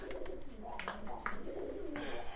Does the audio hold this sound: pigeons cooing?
yes